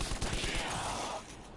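Rapid bursts of gunfire from a zombie shooter game, loud and dense at the start and thinning toward the end, with no talk over it.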